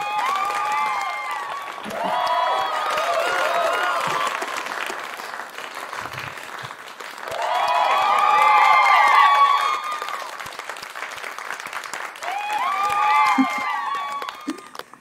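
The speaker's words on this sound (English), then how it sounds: "yeah, time for applause." An audience at a live assembly applauds in waves, swelling and easing over several seconds, with scattered voices and cheers mixed into the clapping.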